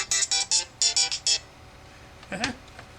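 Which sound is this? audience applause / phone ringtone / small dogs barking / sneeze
phone ringtone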